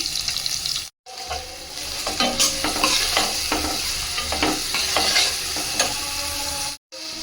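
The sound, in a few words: onions frying with crushed ginger garlic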